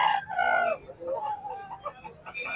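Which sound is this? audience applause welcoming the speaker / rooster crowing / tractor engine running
rooster crowing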